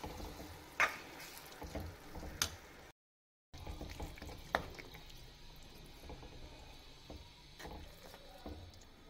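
Baingan bharta, a mashed roasted eggplant dish, being stirred and mixed with a spoon, giving soft wet squelches and scraping knocks at an even, moderate level with no talk.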